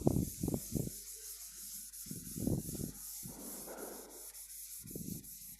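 Writing being rubbed off a classroom board, heard as close, repeated swishing and scrubbing strokes in uneven bursts with short pauses between them and no voices.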